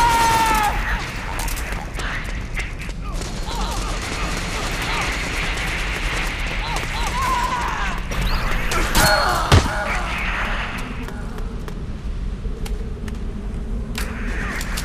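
Rifle fire in a multiplayer shooter game pops in scattered sharp shots and bursts amid battle noise, with players talking over the action throughout.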